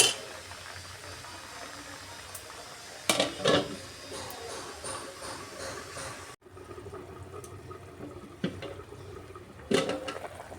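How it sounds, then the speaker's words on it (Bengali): A lid set on a cooking pot of simmering potato and fish curry, with metallic clanks and rattles over a bubbling, watery kitchen background, a few sharp clatters standing out, no speech. "আবার একবার ঢাকা দিয়ে দিচ্ছি।"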